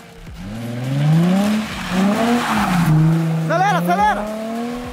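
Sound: car spinning doughnuts with tires skidding during drift lesson

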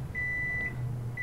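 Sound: microwave oven beeping

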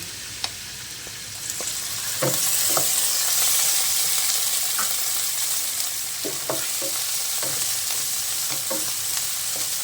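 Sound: pork frying in a pan for mung bean stew

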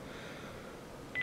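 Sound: DTMF telephone keypad tones entering a password

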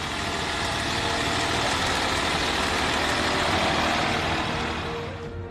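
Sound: tractor engine running

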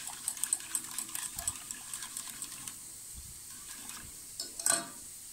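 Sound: stirring the lemon marshmallow mixture in a pot on the stove

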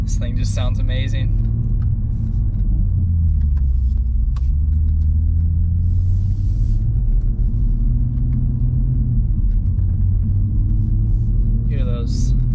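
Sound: 2020 Toyota Supra engine rumbling while driving

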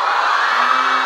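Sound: fans screaming at concert event

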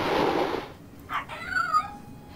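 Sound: cat meowing in video game

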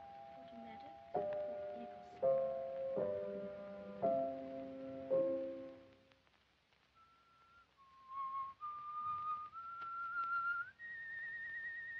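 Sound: person whistling a tune

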